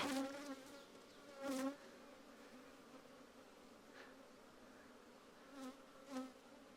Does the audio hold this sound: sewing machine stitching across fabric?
no